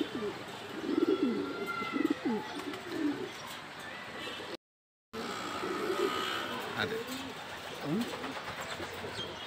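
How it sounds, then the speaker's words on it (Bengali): A female racing homer pigeon gives soft, low cooing bursts while being held. People talk nearby and a faint background hum runs throughout, broken by a short silent gap midway. "প্রথমে মাদি কবুতরটা নিলাম"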